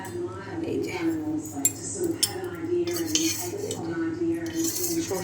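A metal ladle clinks and scrapes against a pot of mustard fish curry with green chillies and tomato, several light knocks and chinks close by, while someone talks over them.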